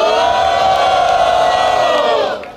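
A large crowd at a rap battle roars and shouts together in a loud, sustained cheer that tapers off at the very end.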